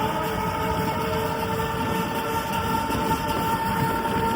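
A train at a metro station gives a steady, loud rumble with a sustained tonal hum, heard close and continuous with no talking.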